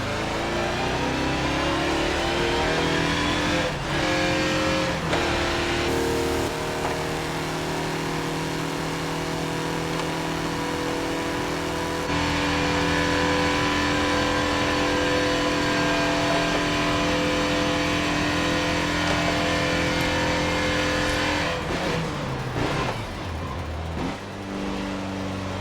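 Mazda race car engine in Forza Motorsport 7 at Daytona International Raceway, revving loud and continuous, climbing in pitch through gear changes with sharp shifts and brief dips, no talk over it.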